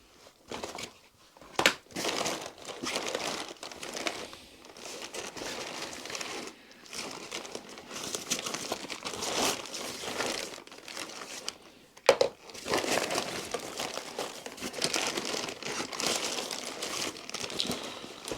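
A hiker's food bag crinkles and rustles as it is handled during a winter gear loadout, bursts of crackling plastic coming and going close up over about eighteen seconds with brief quiet gaps and one sharp crunch.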